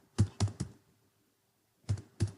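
Keys on a computer keyboard are pressed in two close, distinct groups of clacks, three quick strokes then a pause before two more, crisp and near against a quiet room.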